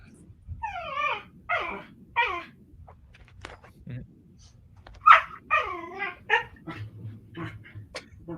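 Corgis bark and yelp in the background, several short bursts clustered in two flurries with whimpery tones between, loud against a quiet room with a faint low hum and soft talk underneath.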